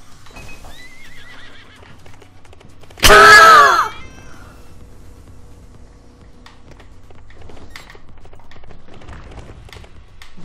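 Unicorn in the Trials Fusion video game, a single loud whinny burst about a second long, followed by faint hoof clatter and quiet background game sounds.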